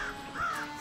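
A crafty crow caws in the papercraft video game Tearaway Unfolded, one short, harsh call near a grocer's barn, clear and close in the game mix.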